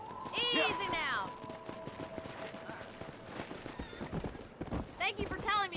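Horse hooves clip-clopping in the video game Red Dead Redemption: a steady, fairly quiet trot with a brief whinny, while someone talks over it.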